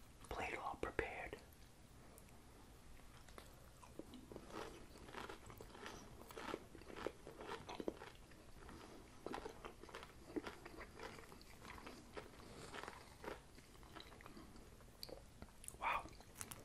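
Crunchy panko-breaded haddock is bitten and chewed close to the microphone, with repeated crisp crunches and soft mouth sounds under quiet whispering throughout.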